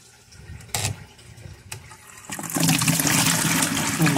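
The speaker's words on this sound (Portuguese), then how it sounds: "Aqui tem uma descarga, ó." A toilet flush starts with a couple of sharp clicks, then swells into loud, steady rushing water that continues to the end.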